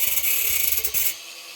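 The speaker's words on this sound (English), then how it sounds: "So what we're going to do is get the old grinder on it." An angle grinder smooths thick metal bits for a homemade cold smoker, giving a harsh, close grinding hiss that runs for about a second and then cuts off abruptly. No one speaks.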